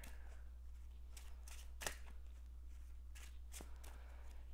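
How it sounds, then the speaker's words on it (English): A Marvel Champions card deck is shuffled close up on a tabletop, with soft papery riffles and several sharper snapping bursts spread unevenly across the moment, no voices. "Now we're going to go ahead and shuffle up our"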